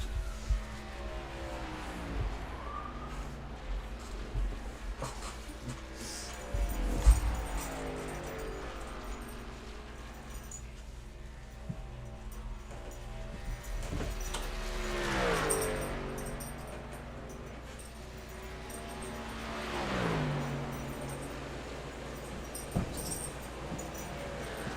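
Race cars in a racing video game whine past on the track, engine tones rising and falling as several cars pass at moderate distance, fairly quiet with a couple of louder swells.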